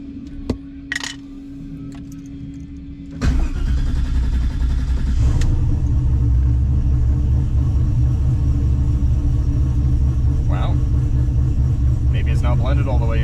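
A turbocharged LS-engined Camaro running on E85 cranks and fires up about three seconds in, then settles into a loud, lumpy, rumbling idle, with a faint clink before the start.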